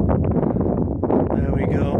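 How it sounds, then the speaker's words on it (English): A gust of outdoor wind buffets the microphone near an Istabreeze I2000 wind turbine, a loud, rough low rumble lasting about two seconds. "Bit of a gust now."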